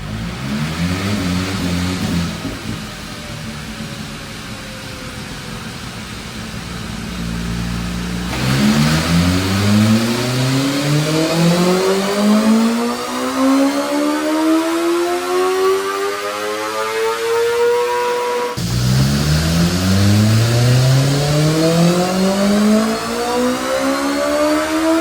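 A 2025 BMW S1000RR sport motorcycle on a dyno during stock runs, its engine revving loudly in long rising sweeps, three separate pulls separated by brief drops back toward idle.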